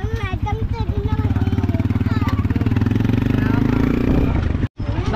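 A motorcycle engine idles with a steady rapid putter close by, with people talking nearby, before it cuts out briefly near the end.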